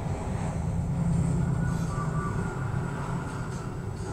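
A train running in an episode of The Umbrella Academy, with a steady, continuous low rumble and rolling rail noise close by, carrying on without pause and with no talk over it.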